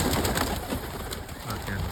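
An opal laced crested pigeon coos in a series of soft repeated low calls, close by, over a busy background with other birds and light activity.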